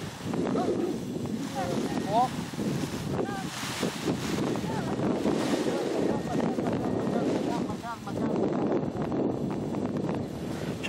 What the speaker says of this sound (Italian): C'è più vento di prima, prima ce n'era meno quando sono partito io.